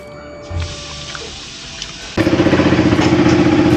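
A motorcycle engine starts up and settles into a loud, steady idle with a rapid pulsing rhythm, close by, after a short stretch of quieter rustling and handling noise as the bike is wheeled out.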